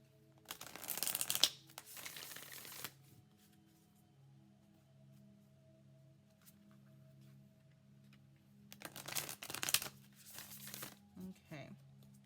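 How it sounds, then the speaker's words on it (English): Two quick bursts of tarot cards being shuffled close up, separated by a quiet stretch with a faint tick and a low hum. "Let me shuffle just a couple more times"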